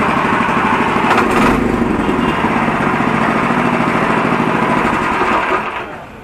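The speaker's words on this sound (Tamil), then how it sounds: "ஒரு டிராக்டர் மாதிரியே நல்ல சத்தம் எழுப்புது" A small hand-held tractor engine runs steadily with a loud, buzzing chug close up, then fades slightly at the end.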